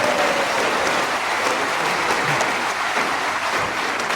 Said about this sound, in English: And still you clap.